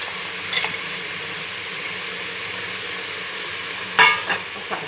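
Bottle gourd and chana dal sizzle in a pan with a steady broadband hiss, punctuated by a couple of brief clinks of a stirring utensil, close and fairly loud, with no voices.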